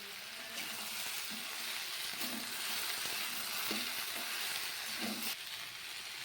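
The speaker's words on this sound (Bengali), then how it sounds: "এবার আমরা ভেজে রাখা মাছের মাথাটাকে অ্যাড করে দেবো" Fried fish head stirred into a pan of mixed vegetables, frying with a steady loud sizzle and a series of rhythmic spatula scrapes against the pan, no voices.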